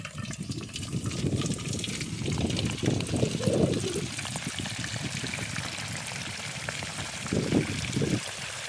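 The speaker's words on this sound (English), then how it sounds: "let's go ahead and deep fry this turkey" A turkey being deep fried in oil outdoors: a steady, loud bubbling and hissing roar of oil, with bursts of gushing, trickling liquid sound, close and continuous without talking.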